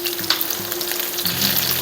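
Tofu frying in a pan for adobong kangkong with oyster sauce, a steady close broadband sizzle with faint stirring scrapes, no voices.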